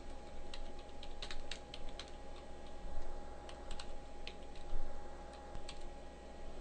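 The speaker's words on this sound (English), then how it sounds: "And now I can type the path and the file name." Computer keyboard typing with quick irregular key clicks over a steady low hum, close and fairly faint, no talk.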